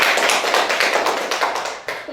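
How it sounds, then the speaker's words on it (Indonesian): Hands clapping in a group for roughly two seconds during a classroom teaching session, a dense, steady patter of many claps that fades out near the end. "Luar biasa, tepuk tangan dulu."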